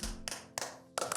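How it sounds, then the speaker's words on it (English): Hands clap three times, sharp and close, with short pauses between claps. "I am clapping."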